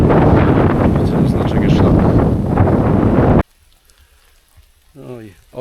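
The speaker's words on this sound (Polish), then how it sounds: "Cały czas leje" Heavy rain pours during a wet mountain hike, a loud dense hiss with wind buffeting the microphone for about three and a half seconds, then cuts to near silence with a brief voice.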